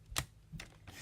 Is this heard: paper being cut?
yes